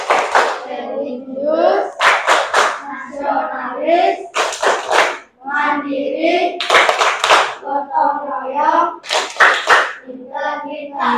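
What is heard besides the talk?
class clapping the PPK clap chant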